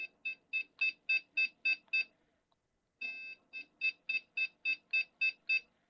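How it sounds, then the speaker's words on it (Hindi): A B350AM4-M motherboard sounds a POST beep code of one long beep followed by eight short beeps, clear high electronic tones, repeated twice with a short silence between, no talk. "1 लॉन्ग है, उसके बाद 8 शॉर्ट बीप है।"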